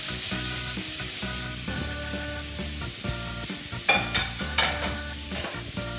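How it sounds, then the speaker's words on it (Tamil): Three chopped onions sizzle in hot oil in a pan, a close steady frying hiss joined later by several quick stirring scrapes, with a faint musical tone running underneath. "சூடான இந்த ஆயில்ல நம்ம சாப் பண்ணி வச்சிருக்கிற இந்த மூணு வெங்காயத்தை"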